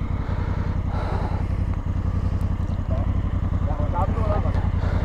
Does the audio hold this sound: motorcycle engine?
yes